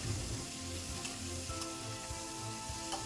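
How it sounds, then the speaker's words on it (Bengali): Pointed gourd cooked with prawns hisses softly in a pan as it is stirred, a faint steady sizzle broken by a few light scrapes, heard alone. "দুই থেকে তিন মিনিট পর ঢাকা খুলে আবারও কিছুক্ষণ নাড়াচাড়া করে নেব"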